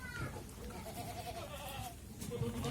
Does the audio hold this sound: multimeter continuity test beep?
no